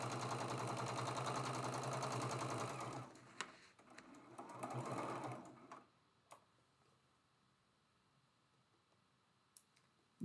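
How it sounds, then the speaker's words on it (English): A domestic sewing machine runs steadily while stitching rows of a traditional maple leaf quilt block, a dense rapid whirring for about three seconds, a short pause, another brief burst, then near quiet with faint clicks. "While we're here at the sewing machine, I'm going to open up these first two rows."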